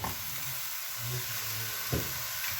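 Squid pieces go into a pan of chili powder masala for a kanavai curry, setting off a steady soft sizzle with brief stirring scrapes and a louder burst of frying near the end.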